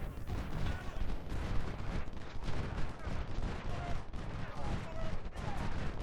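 Battle noise from a Civil War strategy game: a dense, continuous crackle of distant musketry and gunfire with sharper reports scattered through it, steady and fairly loud throughout.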